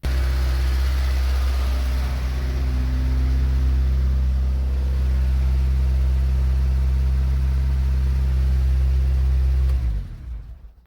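A Fiat Cinquecento with an 899cc engine idles from stone cold at night, a steady close rumble with a low, even tone that holds for about ten seconds before the engine cuts off and falls silent.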